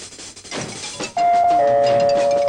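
After some faint clatter, a doorbell chimes out loud and sustained, its bright tones ringing on to the end.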